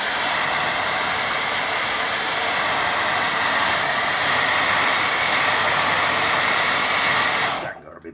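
A hair dryer blows steadily over a watercolour painting, giving a loud, continuous airy hiss and motor whine that stops abruptly near the end.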